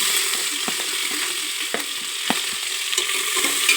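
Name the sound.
fennel seeds and onion frying in oil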